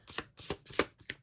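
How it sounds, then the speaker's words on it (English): Tarot cards are shuffled by hand in four quick riffling bursts, close and crisp, with brief gaps between them and no talking. "Shuffle and cut again."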